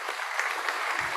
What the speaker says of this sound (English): there's loads of rounds of applause now